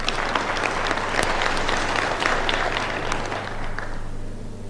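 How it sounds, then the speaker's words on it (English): An audience at a fellowship program launch gives sustained applause, dense and even clapping filling the room for several seconds before thinning slightly toward the end. "Please, if you can clap for her."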